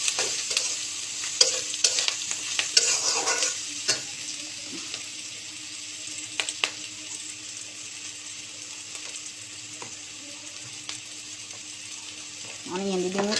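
Curry frying in a pan after green chili is added, a soft continuous sizzle with repeated scraping and clinking of a spoon stirring, close up, while a voice speaks briefly near the end.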